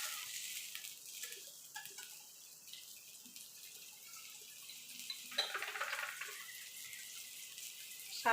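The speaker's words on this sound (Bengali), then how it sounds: "বাটিটা ধুয়ে জল দিয়ে দেবো" Water runs and splashes faintly and continuously as a bowl is rinsed in a home kitchen while cooking vegetarian chhana dalna, then poured in, with occasional louder splashes.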